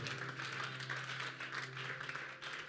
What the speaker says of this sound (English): Clap your hands for her.